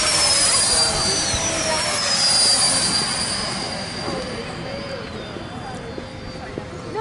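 Electric Freewing T-33 RC model jet coming in to land at an outdoor electric model flying festival, a steady high ducted-fan whine sweeping downward in pitch as it passes, moderately loud with wind and outdoor background noise.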